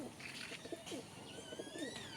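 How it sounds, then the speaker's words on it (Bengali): Pigeons cooing in a village loft, soft, repeated throaty coos in a loose rhythm, close by and fairly faint, with a few higher chirps and no talking. "খুব ভালো পায়রা।"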